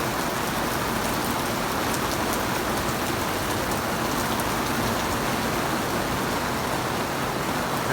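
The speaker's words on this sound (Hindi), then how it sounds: "कंटिन्यू हो रही बारिश" Steady, dense rain pours down, a constant hiss of drops hitting surfaces all around, with no pauses or voices.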